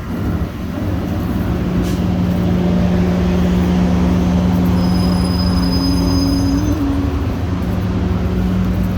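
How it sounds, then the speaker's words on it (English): Loud, steady rumble of an EXO commuter train on the Mont-Saint-Hilaire line rolling along rails, heard from inside a car, with a low drone and occasional high wheel squeal. "time for a little EXO commuter train ride back towards Montreal here on the Mont-Saint-Hilaire line"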